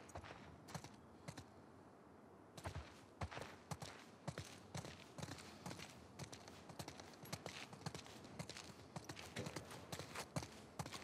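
Horse hooves clip-clop through a game world in The Last of Us Part II during a patrol ride, a steady uneven rhythm of sharp hoof strikes that sounds faint and distant, with no voices heard.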